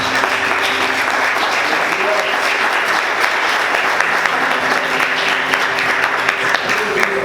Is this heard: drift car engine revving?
no